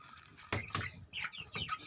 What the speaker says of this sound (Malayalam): ഇതാണ് എൻ്റെ കോഴിക്കുഞ്ഞുങ്ങൾ.